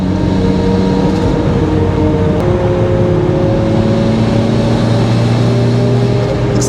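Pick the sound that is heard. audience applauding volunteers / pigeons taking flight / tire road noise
tire road noise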